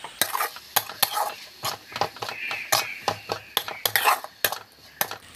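A spoon stirs sliced onions with turmeric and salt in a pan, close up: steady, repeated scraping strokes, each with a sharp metallic edge, over a soft sizzle.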